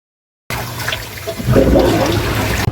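Running tap water pours steadily over a split ingredient being washed for dinuguan, a continuous broadband gush that swells louder midway and carries on with no talk.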